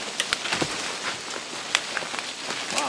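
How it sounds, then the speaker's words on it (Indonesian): Rain falling on a forest campsite beside a river, scattered drops tapping and pattering on surfaces over a soft steady hiss, fairly quiet with no voices. "Wow, hujan dia."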